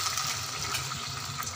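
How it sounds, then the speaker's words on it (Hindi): Water boiling in a pot for sugar syrup for motichur laddu gives a soft, continuous bubbling hiss, faint and steady over a brief stretch with no voices. "अब ये देखिए हमारा पानी बॉईल हो चुका है।"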